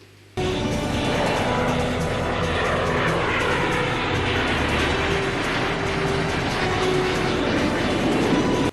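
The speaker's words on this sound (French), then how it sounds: "Liza et Kim Jong-un décollent à bord de leur avion en plastique" Small plastic airplane taking off in a film scene, a loud continuous engine roar with whirring and rattling mechanical tones, starting abruptly and holding steady throughout.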